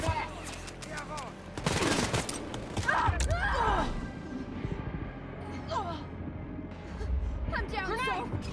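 Guns fire in a World War II shooter video game, a dense burst of rapid shots near the two-second mark, then scattered bangs, clanks and mechanical sounds with voices and game effects over a busy background.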